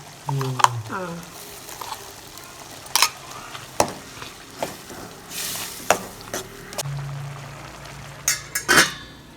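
Snake gourd kootu cooking in a pan with ground cumin, coconut and green chilli, a soft bubbling simmer broken by spoon scrapes and clinks against the pan, with a voice talking over it.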